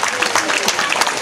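Brief burst of audience applause at a wildlife park animal show, dense clapping with a voice heard over it.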